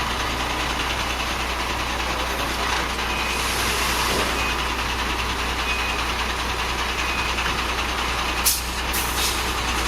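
Trucks idle and creep along a market street in Taguig, a steady low diesel drone with constant rumble throughout and a brief sharp hiss like an air brake near the end.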